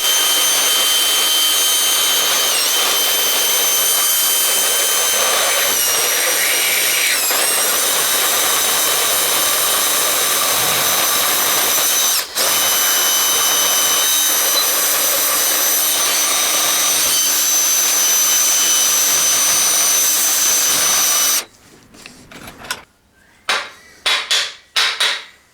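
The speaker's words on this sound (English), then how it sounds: "I'm using a burr and a drill to remove the excess material on the inside of the housing" An electric drill spinning a burr to grind excess material from inside a cracked impact wrench housing, a loud continuous high-pitched whine for most of the time, then stopping and giving way to short bursts near the end.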